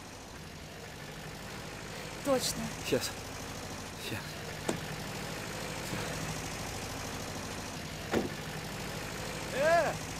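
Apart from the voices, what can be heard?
tractor engine running nearby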